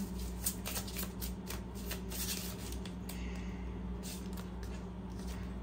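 Tarot cards being shuffled and drawn by hand, a soft continuous papery riffling and sliding at close range over a steady low background hum, with no talking.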